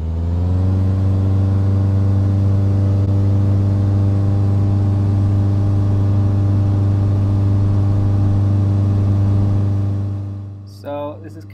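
A small aircraft engine at full takeoff power, a loud steady droning hum with strong low harmonics holding for about ten seconds before fading, followed by a brief fluttery burst.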